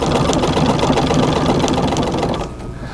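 A treadle sewing machine stitches through a full-sized quilt, its dense, steady mechanical chatter running at an even, unhurried pace close by before dropping away abruptly near the end.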